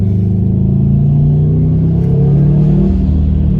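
A Subaru Impreza WRX STI engine pulling hard under acceleration, a loud, deep, continuous rumble with a rising tone heard from inside the car.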